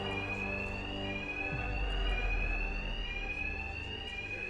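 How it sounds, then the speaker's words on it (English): Batman Arkham Knight's in-game alarm blares on without pause during a heist, a loud piercing ringing tone over low rumbling background sound, with a brief low thump near the middle. "My attacks will be covered by the noise of the alarm."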